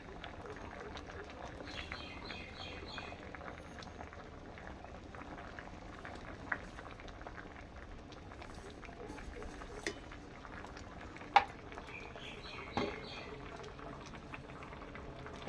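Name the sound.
sweet potatoes boiling in a covered pot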